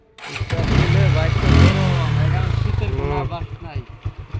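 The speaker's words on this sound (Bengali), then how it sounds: "এই যে এরকম স্টার্ট দিলে নাকি" A motorcycle engine cranks and catches, roaring up loudly close by, then settles into a rapid throbbing idle, with a person talking over it.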